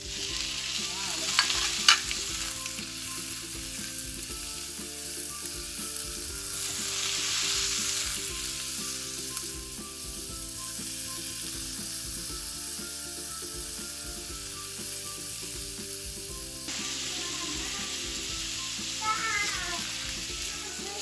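Tomato and ginger fry in a pan, a steady sizzle with occasional stirring scrapes and clinks, under a continuous background of light music.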